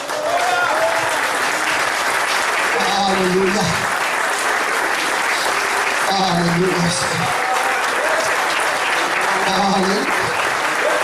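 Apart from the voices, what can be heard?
applause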